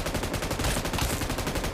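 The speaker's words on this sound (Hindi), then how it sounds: "दोबारा बरसाता हूँ फिर गोलियाँ।" Dense, continuous automatic gunfire in the mobile battle royale game BGMI, loud and close, with rapid overlapping shots packed into a sustained burst with no gaps.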